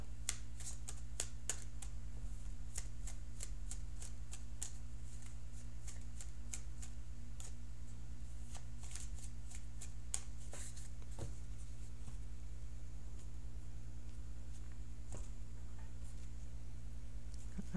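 Tarot cards are shuffled before a reading: a string of faint, quick papery riffles and taps over a steady low hum, with no talking.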